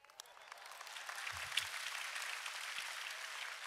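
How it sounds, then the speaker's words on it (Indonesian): Applause from a church conference audience, faint and steady across the whole stretch, a soft wash of distant clapping without voices on top. "Saudara tepuk tangan enak"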